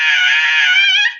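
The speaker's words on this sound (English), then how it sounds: "sometimes you just gotta scream" A person lets out one loud, sustained high-pitched scream lasting about a second, steady then trailing off at the end, heard alone.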